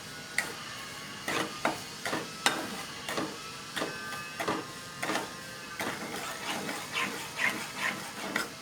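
Semolina stirred and roasted in ghee for suji halva gives a series of quiet, rhythmic scraping strokes of spoon against pan, about two each second, over a faint steady sizzle, with no talking.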